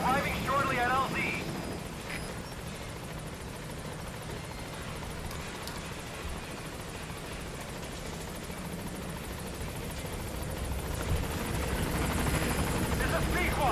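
A helicopter in Metal Gear Solid V flies in toward a landing zone, its steady rotor thrum and engine whine filling the scene throughout, with radio voices speaking over it.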